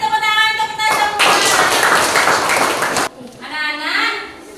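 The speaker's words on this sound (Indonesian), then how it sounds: "kasih tepuk tangan untuk kita semua" Schoolchildren clap together in a classroom, a loud, dense burst of clapping lasting about two seconds, framed by children's voices and chatter before and after.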